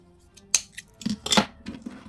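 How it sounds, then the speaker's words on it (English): Scissors snipping new fishing line for a beaded pyramid bag: a few sharp, close metallic clicks and snips separated by short pauses, with no one speaking. "You're going to cut new fishing line."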